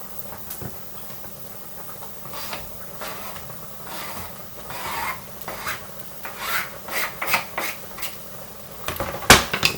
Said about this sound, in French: je vais pouvoir venir rajouter mes champignons dans la poêle